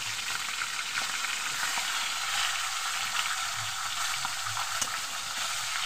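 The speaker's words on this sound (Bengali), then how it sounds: "এবার মাছের মাথাগুলো আমি ভেজে নেব" Fish heads fry in hot oil in a wok with a continuous, close sizzling crackle. Faint scraping and stirring clicks run underneath.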